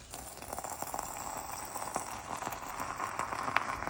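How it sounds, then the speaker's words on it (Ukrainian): Soft, fast bubbling and popping sizzle from an ostrich egg frying in a pan, steady and fairly quiet, with small crackles scattered throughout. "Так булькає воно гарно. Хай ще смажиться."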